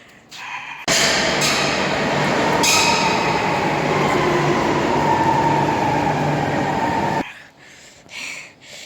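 Rodalies R2 airport train running through a station, a loud sustained rumble and rail roar that starts abruptly, holds steadily for several seconds, then cuts off into quieter station ambience.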